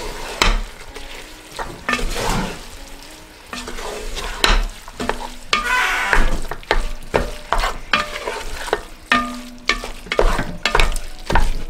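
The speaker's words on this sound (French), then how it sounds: "Et là, je peux mélanger le tout." Onions and a little cinnamon fry in a pan while a spoon stirs them, giving a steady close sizzle broken by a run of sharp scraping knocks against the pan, with no talking.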